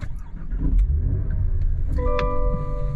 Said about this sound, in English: You can hear the engine starts right up.